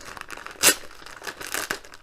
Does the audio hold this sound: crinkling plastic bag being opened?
yes